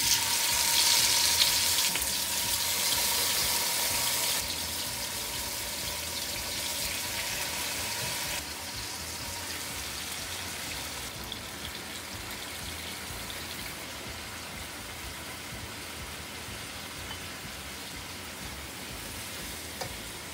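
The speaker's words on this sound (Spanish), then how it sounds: "Le ponemos un chorrito de aceite, un poquito de aceite. Y vamos a empezar a sofreír los mariscos." Seafood sautéing in a splash of oil in a pan for Chinese-style rice, giving a steady close sizzle and hiss that is louder at first and then settles into a constant, slightly softer crackle with no talking.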